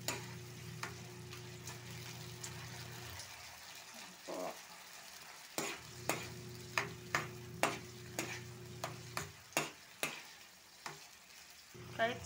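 Fava beans sautéing in a pan, with a steady sizzle and a low hum, then a gap, then a run of sharp spatula scrapes and stirring knocks over renewed frying.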